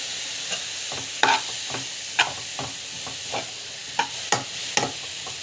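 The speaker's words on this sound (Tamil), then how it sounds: "ஸோ நல்லா வந்து வதக்கிக்கோங்க." Asafoetida, salt and ginger garlic paste sauté in a pan over a constant sizzle, broken by about a dozen sharp scraping strokes of a spoon at uneven intervals.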